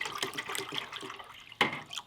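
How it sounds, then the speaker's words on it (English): Water is poured into a container to fully submerge a KCI MP5 magazine for a torture test, a close, uneven splashing trickle with a sharper splash near the end. "I'm just going to add a little bit more just to make sure we get this thing fully submerged."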